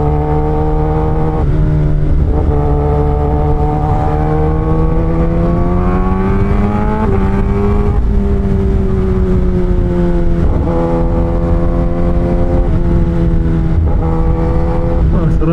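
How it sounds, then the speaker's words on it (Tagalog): A Kawasaki ZX-10R sports motorcycle on the road, its engine droning loud and close with a steady rising and falling pitch as the rider shifts, backed by constant wind rush. "Sarap talaga magmotor."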